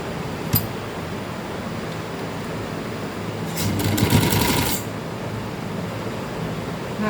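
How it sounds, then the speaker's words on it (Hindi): A sewing machine stitches a seam on a Balochi frock, running in one short, steady burst of about a second against a quiet room. "ये सिलाई मैं आपको लगा के दिखाती हूँ और ये सिलाई सीधी साइड से ही लगेगी।"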